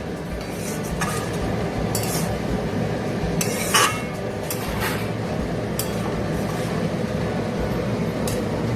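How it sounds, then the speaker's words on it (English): Fish jhuro (Bombay fish) with onions being stirred in a pan, giving a steady scraping, sizzling wash with a few light clinks of the spoon against the metal, close and continuous. "so you have to stir it like this."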